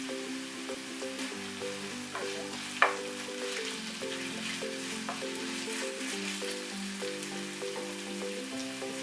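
Bay leaf goes into hot oil with fried onions for a yoghurt eggplant curry, giving a steady close sizzle and crackle, with one brief clink and faint stirring underneath and no talking.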